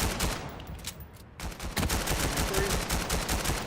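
Dense gunfire fills a video game match, with rapid overlapping shots and a grenade blast, loud and continuous from start to finish.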